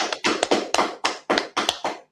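Sharp hand claps in a steady rhythm, about eight in two seconds, close and fairly loud, sounding like one or a few people clapping rather than a large audience, with no talking.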